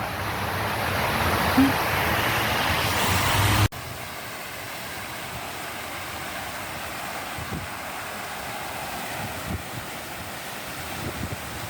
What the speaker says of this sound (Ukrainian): але саме звуки води